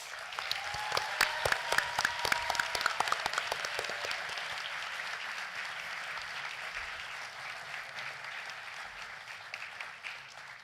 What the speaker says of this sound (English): Can we have one last round of applause for the class of 2026?